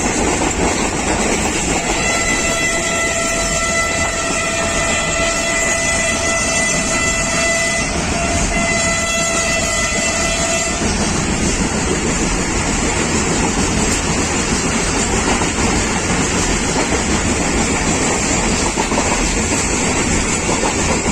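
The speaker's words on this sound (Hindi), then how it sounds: "ढलकी रेलवे स्टेशन क्रॉस करेगी मिल्लत एक्सप्रेस" The Millat Express passenger train rumbles past Dhalki railway station in Pakistan at speed, a long two-tone horn blaring over the roar, then the steady rush and clatter of passing cars.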